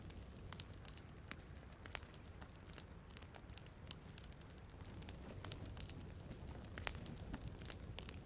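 Quiet crackling and popping of a campfire in the survival game The Forest, faint sporadic snaps over a low steady hiss, with no other sounds.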